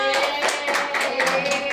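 A class of pupils clapping their hands in a classroom, a dense steady patter of many hands close by that fills the whole moment, with a faint steady tone running underneath.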